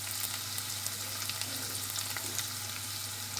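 Garlic, onion and tomato fry in a pan with a steady, dense sizzle close up, loud and unbroken over a low background hum.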